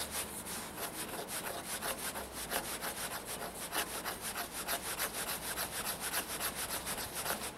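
A Schrade SCHF24 knife blade scrapes fatwood in a steady run of rough, rhythmic strokes, close and continuous with no talking.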